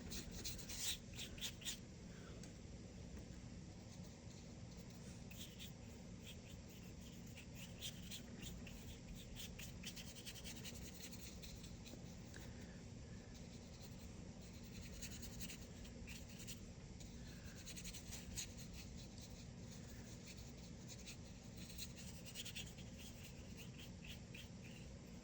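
A brush scrubs acrylic paint onto cardboard, giving a continuous soft dry rubbing and scratching that carries on steadily and close throughout, with no talk.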